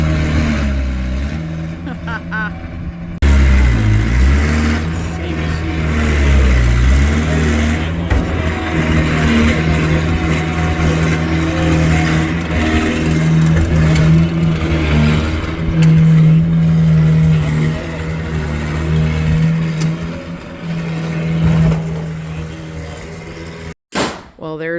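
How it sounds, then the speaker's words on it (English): A skid steer loader's diesel engine runs steadily and revs at a drain dig site, loud and close throughout, with people talking and cheering over it. "He's giving her a go on the skid steer."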